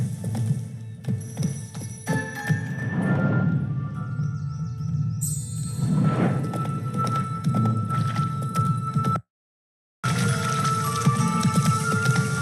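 Roach the horse's hooves clip-clop steadily in The Witcher 3 game, with a brief neigh among the footfalls over an ambient game soundscape, then a short silent gap before the sounds resume.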